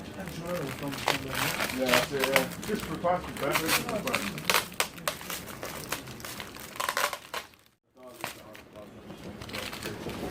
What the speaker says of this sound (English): Just got a tape to undo